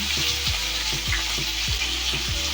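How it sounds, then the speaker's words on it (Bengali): Vegetables with salt and turmeric powder sizzle steadily in a pan while a spoon scrapes through them in a regular rhythm, about four strokes, close and loud with no talking. "হলুদ গুঁড়ো লবণ আর হলুদটাকে সবজির সাথে নাড়াচাড়া করে মিশিয়ে নিচ্ছি"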